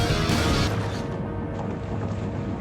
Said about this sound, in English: Mavis and Percy heard the crash from inside the mine shaft